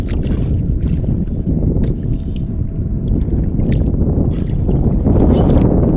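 A boat's steady low engine rumble passes close by, mixed with wind buffeting the microphone and faint voices in the background.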